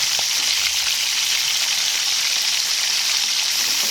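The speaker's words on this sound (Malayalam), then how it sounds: "ഉലുവ ചൂടായി വരുമ്പോൾ അതായത് പച്ചമുളക് ഇട്ട് കൊടുക്കുക." Fenugreek seeds and green chillies frying in hot oil for a chicken curry, a steady, dense sizzle that stays even and close throughout, with no talking.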